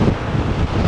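Strong wind buffets the microphone on a clifftop near a large ravine, a loud continuous low rumbling roar that fills the whole short moment with no voice.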